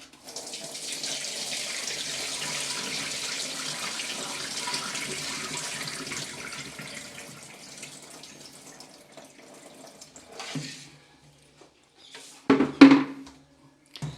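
Water pours steadily from a tap over soaked rice being rinsed for idli and dosa batter, a continuous splashing stream for about ten seconds, then quieter swishing and a few sharp handling clatters near the end.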